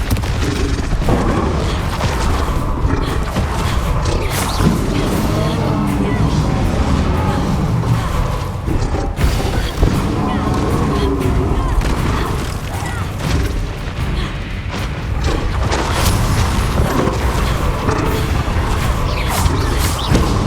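Spell explosions from Confringo in the Hogwarts Legacy video game: steady, loud bursts and booms layered with mechanical whooshes and crashes from combat, continuous over the full stretch with dense game audio throughout.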